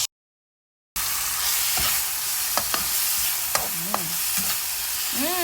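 Bitter gourd (ampalaya) being stirred and fried in a pan, a steady close sizzle with scraping strokes of the spatula, after a short silent gap at the start.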